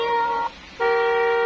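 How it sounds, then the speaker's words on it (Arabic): A children's electric Mercedes ride-on toy car sounds its horn: two bright electronic beeps, the first about half a second long and the second longer after a short gap, loud and close with no talking. "نقدر نعمل كلاكس بالشكل ده"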